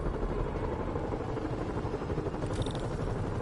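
A helicopter in the Spider-Man video game drones steadily with a broad rotor rumble, loud and continuous throughout, with a brief higher whine rising near the end.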